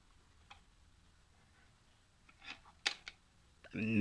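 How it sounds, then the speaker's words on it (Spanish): A USB stick is pushed into a Yamaha PSR-E463 keyboard in a quiet room, producing a few faint, close plastic clicks and taps, followed by a louder burst at the end. "una vez prendido el teclado, vamos a insertar el USB"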